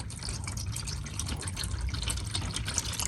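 Synthetic motor oil drains from an Acura MDX in a steady liquid stream that splashes into a catch pan, a continuous close trickling and pattering with no voices.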